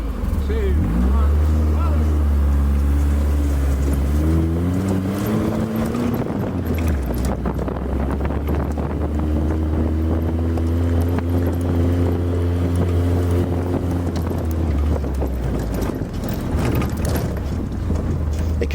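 Kit car with a 2-litre Pinto engine accelerating hard at Brooklands, a loud sustained engine note with rising then steady harmonics over wind buffeting, heard from on board with people talking.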